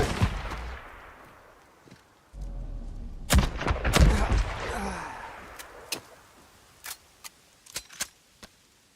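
Gunfire in Days Gone rings out in sharp, loud bursts: a cluster of heavy shots early on, then scattered single cracks and a quick final volley, with ambient rumble filling the gaps between reports.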